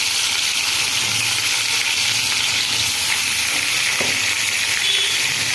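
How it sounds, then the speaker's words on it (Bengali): Hilsa fish pieces frying in hot oil in a pan, with a loud, dense, continuous sizzle and spatter, close up and steady throughout, with no voices. "একইভাবে এই মাছগুলো একসাথে ভেজে নেব"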